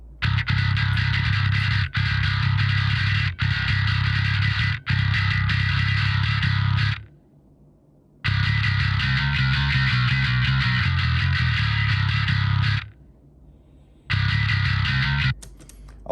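A bass guitar runs through Parallax, Bass Professor, TR5 compression and EQ plugins, giving loud, thick, distorted riffs in chunky bursts broken by short gaps of silence, with no talking over it.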